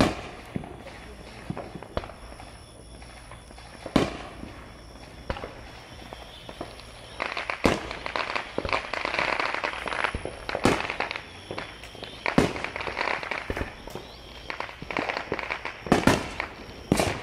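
Fourth of July firecrackers going off around a neighborhood: a series of sharp, loud cracks at irregular intervals, some close and some farther off, over a steady crackling background with faint chatter.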